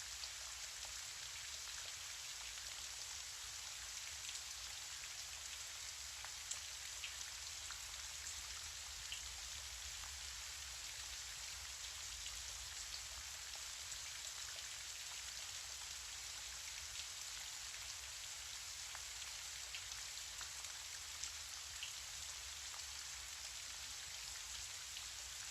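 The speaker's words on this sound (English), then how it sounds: "Listen to the rain and continue breathing through your nose" Gentle rain falls in a soft, even hiss of fine drops, steady and unbroken throughout, with no voices.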